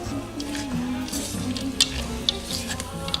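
Sausage stirred around a buttered pan as it fries, a steady low sizzle with soft scraping and a few sharp clinks of utensil on pan, close and continuous with no talk.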